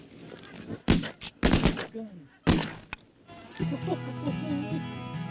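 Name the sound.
shotgun shots at waterfowl while hunting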